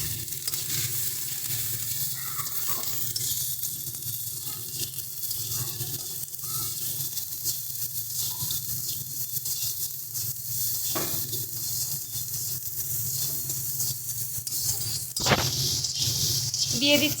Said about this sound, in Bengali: সমস্ত কিছু দিয়ে বেশ ভালো করে এবার এটাকে আমরা কষিয়ে নেব।